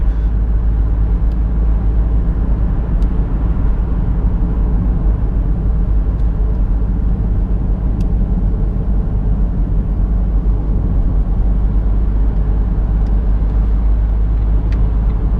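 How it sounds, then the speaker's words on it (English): A 2007 Vauxhall Astra 1.3 CDTi 16v small diesel engine under way, giving a constant low rumbling drone with road noise, heard steadily from inside the car with nobody talking. "Plenty of power in it for a small diesel engine."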